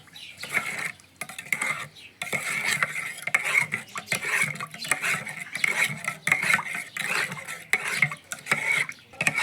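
A spoon stirs yeast and sugar into warm water in a container, a steady scraping, swishing rhythm of repeated strokes close by with no talk, mixing a homemade yeast fertilizer for tomatoes and cucumbers.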